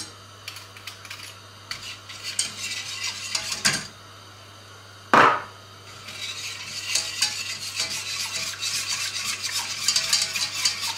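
Spoon stirring sugar in a small bowl, with faint scraping and light clinks against the bowl, one sharper knock midway, then steadier stirring that grows a little louder.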